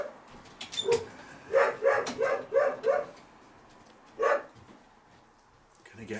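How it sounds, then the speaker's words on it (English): A dog barks in a rapid burst of five or six close, loud barks, then one more bark after a pause, indoors during a tabletop wargame session. "You just bark because you know that he's going to come out"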